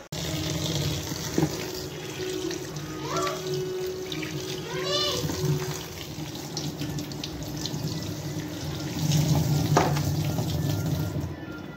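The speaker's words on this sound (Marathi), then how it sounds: "भाजी आपण आता स्वच्छ धुवून घेतलेली आहे." Fresh dill greens are washed under a running kitchen tap, a continuous splashing hiss of water with occasional clinks and rustles, close and steady throughout.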